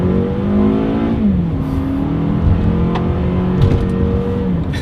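A 2020 Toyota RAV4 accelerates hard in sport mode, its engine note climbing steadily in pitch with a brief dip around a gear change, heard from inside the cabin.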